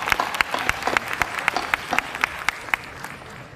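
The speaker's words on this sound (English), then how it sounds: "A round of applause for you all." Audience applause at a high school graduation ceremony honoring parents and guardians, steady crowd clapping with sharp individual claps standing out, fairly close and even throughout.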